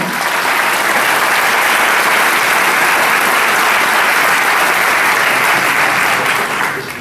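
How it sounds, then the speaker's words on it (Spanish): Sustained, loud audience applause for a tuna's musical director and second mandolinist, a dense steady wash of clapping filling the whole stretch and tapering slightly at the end. "le damos un fuerte voto de aplauso a Carlos Parihuamán Chávez como director musical y en la segunda mandolina"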